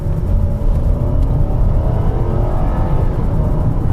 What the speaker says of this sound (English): Okay, so now let's like accelerate it again.